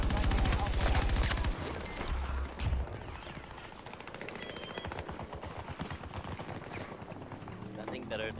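A PKP machine gun fires in Battlefield 2042 as long, rapid bursts of gunfire with distant battle noise around it, while a player talks over the shooting.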